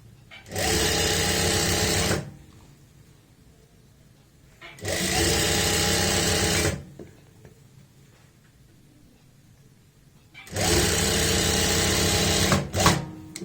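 Sewing machine stitching a trouser lining, running in three steady, loud bursts of about two seconds each with quiet gaps between them, close to the microphone.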